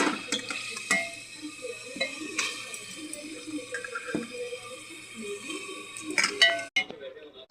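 Three cut potatoes and pieces of chicken drop into a spiced pot with clinks and knocks of metal cookware and utensils, a few sharper clatters standing out over steady kitchen clatter.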